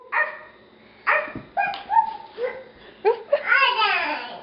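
A young child imitates a dog, giving a series of short, loud woof-like yelps and barks with pauses between them, ending in a longer whining, whimpering cry; an adult voice is also present.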